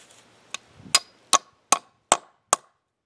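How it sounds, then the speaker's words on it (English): A hammer drives carriage bolts into wood, six sharp, evenly spaced strikes that ring out close and loud in a quiet space, with no talking. "I like to hammer them in to try and get the rectangle at the base of the circle kind of seated into the wood."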